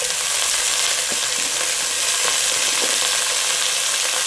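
Frozen chicken pieces sizzle and fry steadily in a hot pan, added for a chicken and potato stew. The crackle is loud, close and continuous, with a few sharper pops and no talking.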